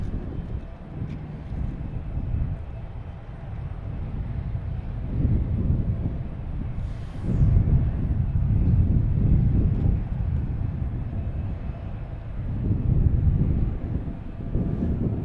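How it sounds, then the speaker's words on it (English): A Frontier airliner touching down on the runway at Boston Logan, a broad rumbling roar rising and falling at a distance under gusty wind buffeting the microphone. "We have that Frontier flight finally hitting the runway"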